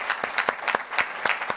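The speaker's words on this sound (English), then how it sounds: "Round of applause." An audience at an economic forecast event gives a short round of applause, heard as quick, fairly even, distinct claps up close for a moment.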